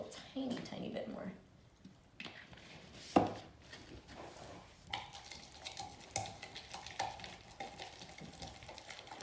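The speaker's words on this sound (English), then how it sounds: "And I'm going to stir it, and it's going to look like cake batter" A whisk stirring pea milk into a thick batter in a bowl, soft wet scraping and sloshing in uneven strokes, close and fairly quiet, with occasional light clinks against the bowl.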